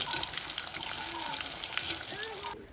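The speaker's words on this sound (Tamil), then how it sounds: "இப்போ அவிச்ச மிளகா பொறிக்க போகிறோம்" Boiled chillies frying in oil, likely in a new clay pot: a steady, close crackling sizzle with light stirring and a little water noise, soft voices in the background.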